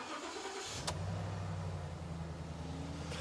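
A Ford F150 engine cranks briefly, catches and settles into a steady, even idle with a low rumbling hum, close and alone.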